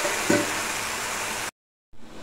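Fenugreek leaves sautéing in a little oil on a tawa give a steady, close sizzle with a brief stir partway through, then cut off into a short silence before the frying hiss resumes.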